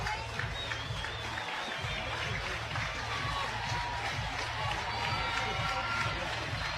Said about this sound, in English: Sooner fans start to cheer, make some noise to hype up Monticelli here.